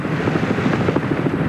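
Television camera helicopter flying over the 1982 Bathurst motor race, a close, steady rotor thudding with a fast regular beat and continuous engine whine.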